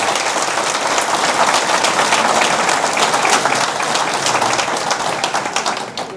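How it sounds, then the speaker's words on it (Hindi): A large rally crowd claps loudly and enthusiastically in honour of two judges, a close, dense burst of many hands with sharp individual claps standing out, fading a little at the end. "दोनों जजेस के लिए पहले तालियां बजाएं आप सब लोग।"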